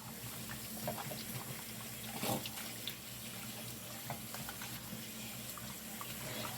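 Tap water running steadily into a sink while dishes are washed by hand, a continuous splashing hiss with a brief louder splash midway, close by and without talk.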